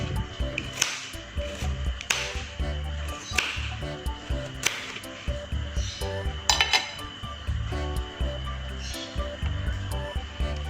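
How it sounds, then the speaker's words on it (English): A knife chops a carrot into small pieces on a cutting board in a home kitchen, giving steady, close, repeated knocks and clicks at a brisk rhythm throughout. "I'm gonna cut the carrot in a small tiny pieces, so it's easy when we put in the blender."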